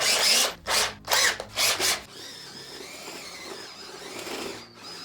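Step drill bit enlarging a hole in a metal enclosure panel, heard as four loud grinding bursts from a power drill in quick succession, then a quieter whirring wind-down with light metallic scraping.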